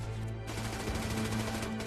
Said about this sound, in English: The Germans open up with mortar fire, machine gun fire, sniper fire